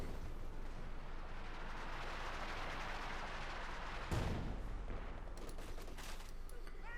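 Dense gunfire and heavy artillery blasts from the World War II strategy game Company of Heroes 2, a continuous rumbling barrage with a sharp explosion midway followed by scattered crackling shots.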